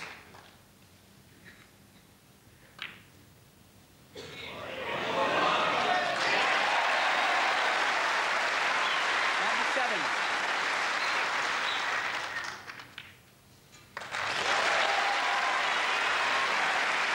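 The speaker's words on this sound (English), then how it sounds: "it's getting the applause from the audience that it deserves" Snooker hall audience applauding a break in the 1989 Irish Masters final, Hendry against Higgins; after a quiet start the clapping swells into loud sustained applause, dips briefly, then resumes strongly, with a commentator's voice faintly underneath.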